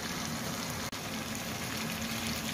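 Tomatoes cooking in a pan for black pepper chicken give a steady, dense simmering bubble and hiss that holds evenly throughout, with one brief drop partway through.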